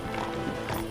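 Horses gallop in Red Dead Redemption, a dense, continuous rumble of hoofbeats heard close and fairly loud through a short burst.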